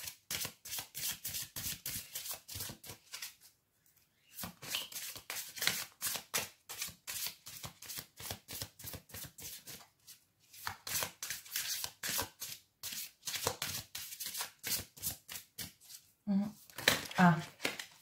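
Oracle cards being shuffled for a card reading, a long run of rapid, crisp riffling flutters broken by two brief pauses, close and steady, with a voice speaking under the shuffling.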